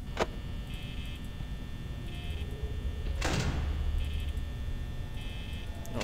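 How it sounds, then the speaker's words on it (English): A security door closing in Five Nights at Freddy's: one sharp slam early on and a longer heavy sliding whoosh midway, set against a constant electrical hum and repeating faint beeping tones. "Closing that door anyway, it's not a problem."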